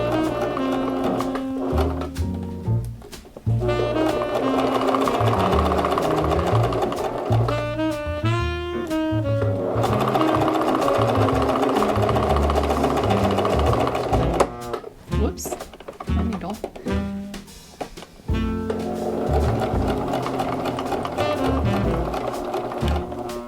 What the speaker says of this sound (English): I'm going to sew along that edge with a 1/2 inch seam allowance